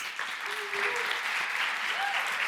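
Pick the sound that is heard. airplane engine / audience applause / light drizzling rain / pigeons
audience applause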